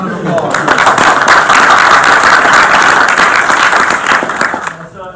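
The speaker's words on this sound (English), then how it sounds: "So let's give Mike a round of applause" Sustained applause from an audience at a Jiu-Jitsu seminar, loud and dense throughout, fading in the last second.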